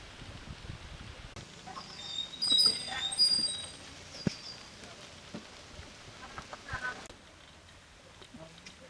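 A rooster clucks in short bursts over a noisy background, with a few sharp knocks and some indistinct voices nearby.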